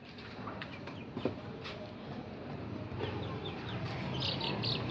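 Soft clucking from a chicken amid a busy outdoor background, with faint chirps and rustling; the sounds are low and scattered rather than prominent.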